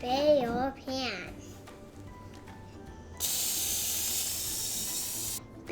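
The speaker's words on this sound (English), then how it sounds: "Spray your pan" A can of cooking spray hisses steadily onto a baking pan for about two seconds, loud and close, after a child's brief sing-song vocalizing and some quiet clatter.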